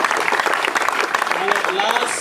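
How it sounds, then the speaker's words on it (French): An audience at a live stage show applauds continuously, thick crackling clapping throughout with a voice speaking on top. "si on peut encore applaudir davantage, un phénomène d'applaudissement"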